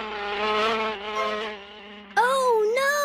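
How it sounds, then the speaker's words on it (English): A tiny fly buzzes by in a steady, whining hum that wavers in pitch and swells louder near the end, heard close and alone with no talk. "A tiny fly buzzes by."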